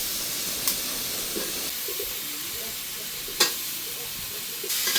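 Sweet pumpkin is stirred into cooked spice paste in a pan, giving a soft, steady sizzle and hiss with a few sharp spoon scrapes against the pan.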